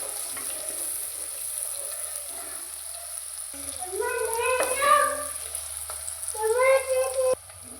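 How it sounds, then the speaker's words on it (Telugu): Onions and mint sizzle quietly in a pan, a faint steady frying hiss, while a voice talks over it in the latter half. "బాగా ఫ్రై అవునండి."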